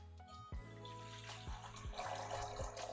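About 750 ml of water poured into a cooking pot while making a rice dish, a faint, continuous liquid pour with soft splashing and gurgling over roughly three seconds.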